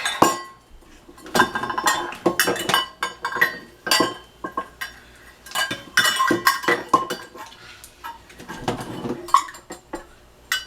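A utensil scrapes an ingredient out of a measuring cup in a home kitchen, giving repeated close scratchy scrapes and light clinks in irregular bursts with brief pauses between them.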